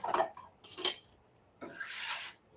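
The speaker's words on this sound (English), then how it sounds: "Scrape the bench." A bench scraper rasps across a pizza-making work bench used for Chicago-style dough, giving a few short, faint scraping strokes and then a longer, breathy scrape near the end.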